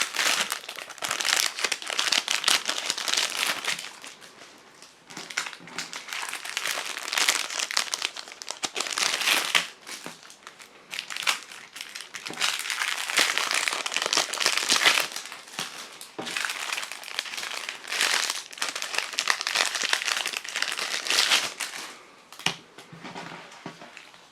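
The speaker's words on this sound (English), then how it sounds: "let's remove all of them from the box packaging, or not box packaging, but clear plastic packaging" Clear plastic packaging crinkling and crumpling as a set of resistance bands is pulled out, a close, continuous rustle with brief pauses and sharp crackles, no talking.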